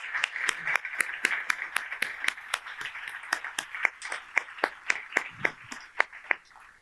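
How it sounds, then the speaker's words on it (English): At a university startup demo day, a sparse scattering of individual hand claps rings out in an uneven rhythm, crisp and fairly close, slowly thinning over several seconds rather than building into full applause. "I'd like to take this opportunity to give our amazing founders one very big round of applause"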